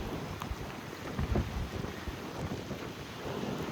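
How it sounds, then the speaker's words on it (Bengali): Strong wind buffets the microphone in rough, rumbling gusts at night in Qatar, with rain hissing underneath the roar. "প্রচুর বৃষ্টি পড়তেছে আর প্রচুর বাতাস"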